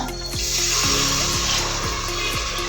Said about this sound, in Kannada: ಇವಾಗ ನಾವು ಅನ್ನಕ್ಕೆ ಎಷ್ಟು ಬೇಕು ಅಷ್ಟು ನೀರು ಹಾಕ್ಕೊಳ್ಳೋಣ